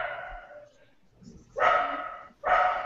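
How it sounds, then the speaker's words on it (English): A dog barks twice, loud and close, in two sharp bursts about a second apart, with faint talk and room noise before them. "There is a dog."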